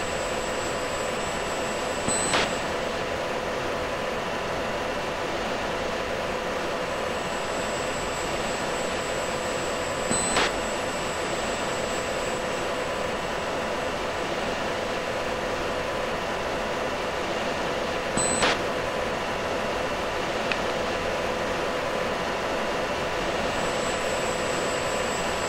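A fighter jet taxis on runway 14 right in the Falcon BMS flight simulator, a steady jet engine whine and rumble with a few faint clicks at regular intervals.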